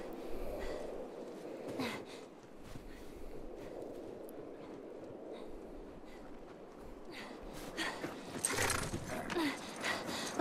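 Horse hooves clip-clopping in the video game The Last of Us, soft and somewhat distant, with snorts and faint breathing over a low steady background throughout.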